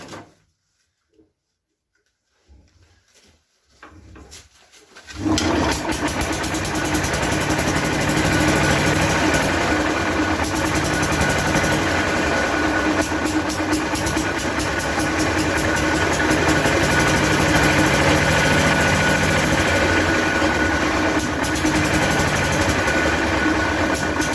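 A 1950s Briggs and Stratton 23FB engine with a choke: a few seconds of quiet handling and cranking noises, then it catches and runs loudly and steadily close by for the remaining twenty seconds, with an uneven, slightly rough idle.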